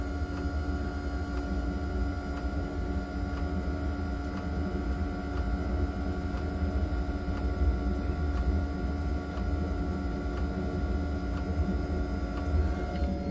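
A heating unit in a widebeam boat's engine bay starts up and whirs: a steady mechanical whir with a constant hum and faint regular ticking, running evenly without pause, fairly close.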